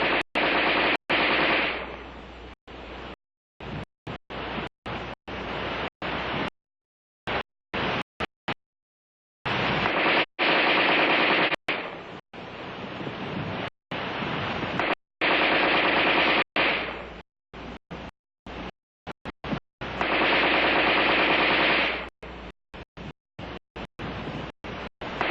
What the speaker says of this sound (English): The preceding demonstration of rapid fire illustrated the use of preloaded magazines